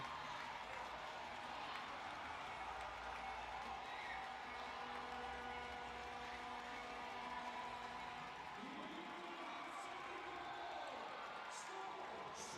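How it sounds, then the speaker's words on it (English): An arena soccer crowd roars continuously after an overtime winning goal in a Milwaukee Wave vs Utica City FC game, with a dense sustained cheer and scattered whoops, and a commentator talking over it. "The crowd is going insane."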